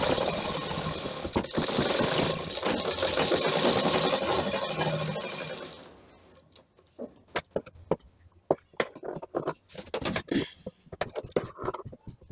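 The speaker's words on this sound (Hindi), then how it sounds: "इस तरीके से सिलाई कर लेंगे।" A sewing machine stitches blouse sleeves in a steady run for about six seconds. Then come a series of sharp clicks, scrapes and handling knocks as the fabric is moved, all close by with no talking.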